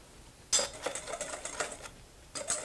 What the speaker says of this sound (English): I want to use a whisk, combine them.